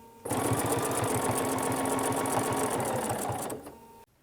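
A sewing machine runs in one continuous, even burst of fast rhythmic stitching during ruler quilting, close up and loud, starting abruptly and stopping after about four seconds.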